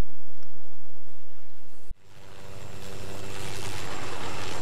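A helicopter in the video game Arma 3 drones steadily, first quieter and then, after a sudden sharp cut, returning as a loud, broad engine and rotor roar that holds close for the rest of the stretch.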